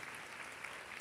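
Church congregation clapping in applause during a Bible study class, a steady dense wash of hands filling the whole second with no voices on top.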